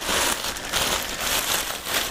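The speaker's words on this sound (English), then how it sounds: "I add this big plastic bag that works well" A large plastic bag rustles and crinkles continuously as it is drawn over a bowl of sourdough no-knead bread dough, a close, steady crackling with no one talking.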